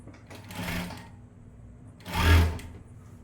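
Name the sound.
sewing machine stitching the side seam of a blouse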